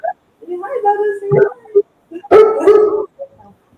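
A Cocker Spaniel barks and whines in short bursts close by, with a higher yelping bark after a brief pause.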